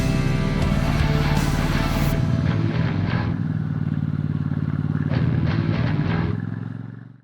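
A 1986 cast-iron Royal Enfield 350 and a new Royal Enfield Classic 650 ride together on a road, their engines thumping steadily up close, with gusty wind noise that eases midway before the sound fades out.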